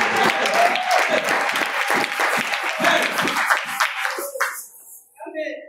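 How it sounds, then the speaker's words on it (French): A church congregation gives a sustained round of applause to the Lord, dense clapping close and loud, with voices mixed in, before it tapers off near the end. "Give an applause to the Lord."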